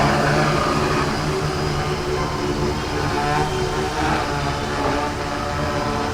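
Propellers of a Pixhawk-controlled drone spinning up for takeoff, a loud, sustained buzzing whine with steady tonal bands, close and continuous throughout.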